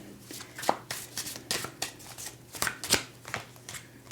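Tarot cards are shuffled, slid and laid out on a surface, giving a run of close, soft papery flicks and taps at an irregular rhythm, with no talk over them.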